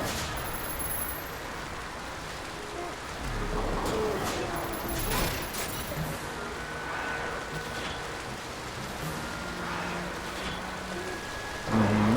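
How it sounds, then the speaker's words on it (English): Steady rain in Final Fantasy XII: The Zodiac Age, a continuous hiss of falling water with low rumbles and scattered game sound effects, moderately loud throughout. "Oh shoot, it's raining."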